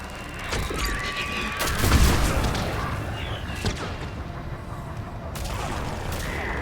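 Missile strikes and explosions in the video game Mass Effect 3, heavy booming blasts with a big low impact near the two-second mark and rumbling debris, amid continuous battle noise.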